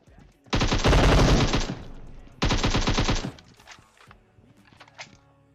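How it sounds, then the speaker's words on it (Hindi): Two loud bursts of rapid automatic fire from an M762 rifle in PUBG Mobile crackle up close, each about a second long, followed by scattered quieter shots and thuds. "और ये M762 की आवाज इतनी तेज क्यों आती है?"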